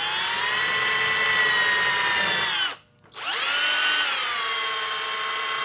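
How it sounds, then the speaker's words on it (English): A power drill whines at high speed drilling into a wine cork, stops briefly for a moment, then spins up again and keeps running steadily, loud and close. "we're gonna bring a drill back and drill a hole right in here"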